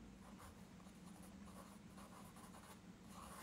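Pen scratching steadily on paper while writing out an answer to a history exam question, close and soft, with no voices.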